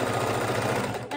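A sewing machine runs steadily, stitching back and forth across a rolled-up fidget quilt near hook-and-loop tape, its rapid needle rhythm loud and close, with no voices, easing off just before the end.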